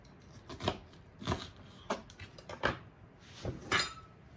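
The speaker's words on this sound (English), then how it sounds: "So we have just part of a red onion. I'm going to slice it into thin slices." A knife slices a red onion into thin slices on a cutting board, a quiet series of about seven separate crisp cuts at an uneven pace, close and without talk.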